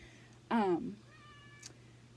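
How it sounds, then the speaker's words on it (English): A cat meows once, loud and drawn out, from behind a shut door indoors, followed by a faint high tone and a brief click in a quiet room. "you would probably hear May outside meowing because the door was shut"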